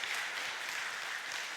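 A church congregation claps to welcome new members during a Sunday service, a quiet steady patter of applause with no voices.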